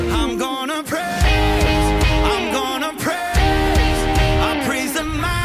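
Electric guitar plays the chorus rhythm of a worship song, sustained strummed chords held in one position, ringing and full with steady loudness, no talk.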